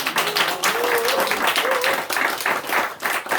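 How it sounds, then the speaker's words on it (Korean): Church congregation clapping together during a Sunday afternoon worship service, a steady, dense round of applause filling the room, with a faint voice rising briefly above it. "박수 한번 더 쳐주세요"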